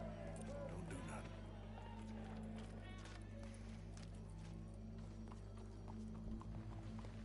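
Rhythmic horse hooves clip-clop steadily in a game, mixed with background music and ambient hum, with voices occasionally talking over the galloping.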